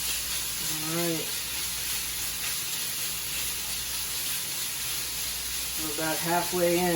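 Onions and garlic frying in a pan for chicken paprikash, with a steady broadband sizzle that runs the whole time. A voice speaks briefly at the start and again near the end over the hiss.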